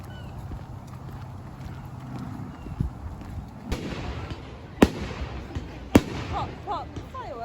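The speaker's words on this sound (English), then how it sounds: "Pop, fireworks." Fireworks bursting over a carnival (Weston Carnival), sharp loud pops and cracks scattered across the clip, with two especially strong bangs late on, over crowd murmur and voices.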